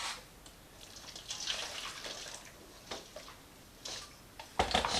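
Water trickles into a clay mordant mix for treating cellulose fibres, a soft, uneven splashing that rises and fades in short bursts, with a louder pour near the end.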